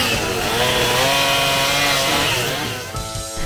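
Chainsaw carving wood at a chainsaw carving event, the engine roaring loud and steady close by with a rising, wavering pitch before easing off near the end.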